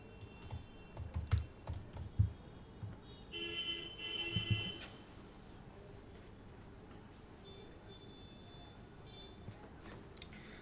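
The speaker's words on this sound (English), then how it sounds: "while I'm doing some typing" Clicks and taps on a computer keyboard come in irregular bursts, fairly quiet, with some louder clusters early on before settling into softer steady typing beneath a faint background hum.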